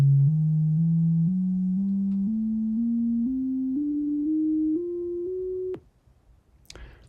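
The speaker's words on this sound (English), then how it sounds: "for each iteration I, we play a note scaled to the value of I" Synthesized sine-like tones climb step by step in a steady sequence of about ten rising pitches, each note held briefly, sonifying a factorial loop, then stopping abruptly before a short click.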